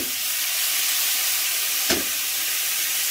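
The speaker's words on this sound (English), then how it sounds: "put oil to the wok, to the pan. Oh, very nice smell, my garlic oil. And then you put the tomato." Tomato dropped into hot garlic oil in a wok, frying for a Vietnamese crab noodle soup: a steady broadband sizzle throughout, with one brief louder splash-burst midway, close and unaccompanied by talk.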